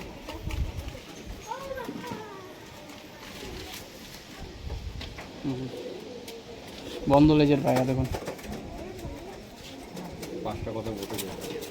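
Tippler pigeons bred at home, kept for match flying, coo softly in a loft. A louder burst of calls comes midway, and someone talks over most of the sounds.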